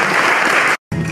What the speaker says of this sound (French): Mesdames, Messieurs, applaudissements pour ce très beau message pour ces